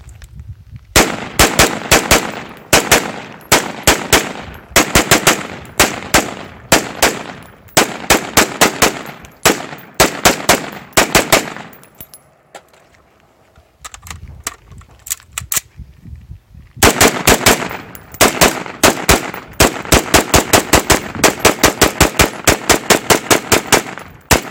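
5.56 rifle fire at rubber shooting targets outdoors, loud rapid strings of shots in bursts with a brief lull near the middle before fast firing resumes, no talking.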